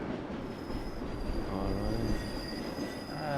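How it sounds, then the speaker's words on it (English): A freight train arrives in a train video game, a loud continuous rumble of rolling wagons with a steady high wheel squeal and faint rail clatter, heard alone with no talk. "Another freight train coming in."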